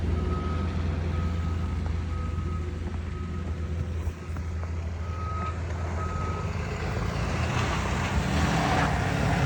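A large car transporter truck arrives in Pennsylvania, its loud reversing beeps repeating steadily over a constant heavy engine rumble.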